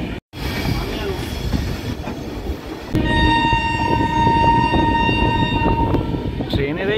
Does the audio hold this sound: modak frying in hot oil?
no